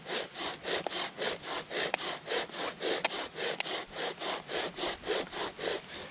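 A wooden spindle drills into a prepared fire board for friction fire, giving a steady run of rhythmic rasping wood-on-wood strokes, about two or three per second, close and alone with no talking.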